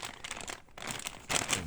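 A plastic bag crinkles and rustles while an airsoft pistol, a Sig Sauer P320 PRO Wilson Combat custom, is unpacked from its box. There are two bursts of crinkling, a short pause, then a louder crackle near the end, close and without speech.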